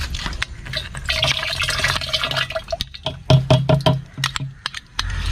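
Sugared yeast mixture is poured into grape wine for homemade wine, a splashy stream of liquid filling the container up close, then breaking into a series of short drips and knocks toward the end.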